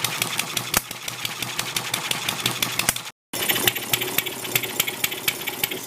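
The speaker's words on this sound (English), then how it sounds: "This is a little Nancy engine that I built a few years ago" A small homemade Nancy model hit-and-miss engine runs close by, giving a rapid, steady mechanical clatter with sharper firing knocks. The sound cuts out for a moment partway through, then resumes.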